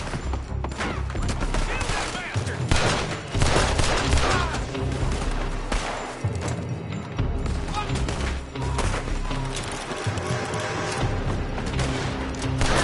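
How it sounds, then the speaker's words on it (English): Enemies firing from a building in the Western video game Red Dead Redemption 2, a dense, continuous fusillade of gunshots and impacts, loud and close, with voices talking in the mix. "They're shooting from that building."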